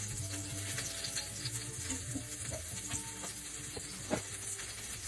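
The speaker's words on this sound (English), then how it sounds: "Heat butter and oil in skillet." Butter and oil heat in a skillet with a soft, steady sizzle and faint crackles, quiet and close with a few small pops.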